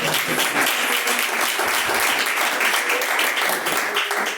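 Church congregation clapping and glorifying, a dense continuous wash of applause from many hands, loud and sustained throughout with faint voices mixed beneath.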